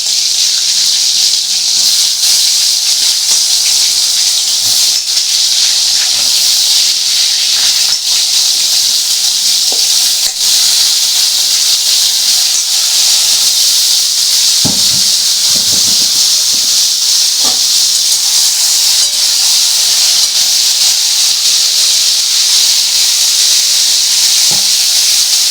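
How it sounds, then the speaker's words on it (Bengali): Pointed gourd pieces dropped into hot oil in a wok give a loud, steady sizzling hiss that fills the whole stretch, with occasional faint clinks and pops underneath. "কড়ার মধ্যে আমি তেল চাপিয়ে দিয়েছি, মোটামুটি তেল গরম হয়ে গেছে। এবার আমি পটলগুলো ছেড়ে দিচ্ছি।"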